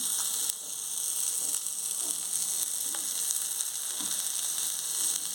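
Kanagarthalu fish frying in oil in a pan: a continuous close sizzle with a few faint ticks and pops, and no speech.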